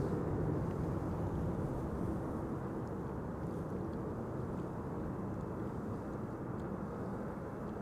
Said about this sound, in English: an Embraer 170, flight 263, arriving from Warsaw